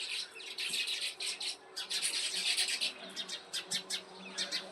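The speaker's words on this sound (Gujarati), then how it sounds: "ચકલા એ મસ્તી કરતા ચણે છે." Sparrows chirp in quick repeated bursts while pecking at grain on a cool morning, the bright twittering close and fairly loud, coming in clusters with brief pauses between them.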